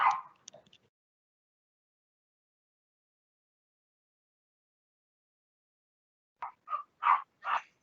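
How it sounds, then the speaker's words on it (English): Dogs bark in short bursts at a distance, a few yelps at the start and then a quick string of barks after a long quiet gap. "Excuse me for 1 second while my dogs are barking."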